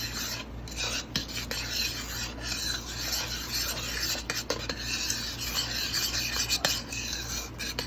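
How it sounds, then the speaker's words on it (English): A spoon stirs thick cherry compote sweetened with stevia in a pot, giving a steady raspy scraping and rubbing against the pot, soft and close, in repeated strokes without talk. "And just stir it around"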